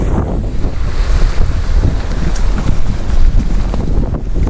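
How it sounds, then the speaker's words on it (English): Cold wind gusts hard across the beach at Runswick Bay, buffeting the microphone in loud, uneven rumbling blasts, with surf washing underneath and no voices. "That wind, it's gets through me."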